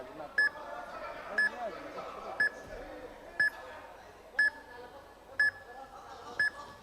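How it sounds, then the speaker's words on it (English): A match timer beeps during ground time at a youth martial arts championship, short sharp beeps repeating about once a second over a noisy hall with commentary talk underneath. "We've got the timer running here. If you can hear the beep in the background"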